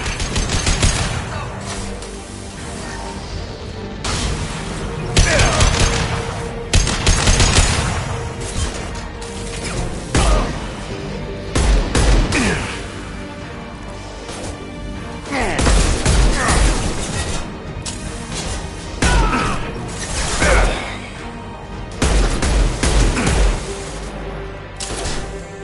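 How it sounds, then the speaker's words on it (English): Heavy gunfire in a Mass Effect battle: repeated bursts of automatic shots, crashes and impacts surge and fade over a dense, loud combat din, with occasional voices mixed in. "Taking heavy fire!"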